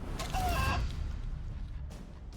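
A short burst of chicken clucking from the Chicken Claw skill in Divinity: Original Sin II rises over a dense, steady game soundscape and then fades into the background rumble.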